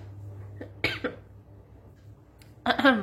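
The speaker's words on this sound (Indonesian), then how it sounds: "Batuk." Two sharp coughs, one early and one near the end, separated by a quiet stretch with a faint low hum beneath.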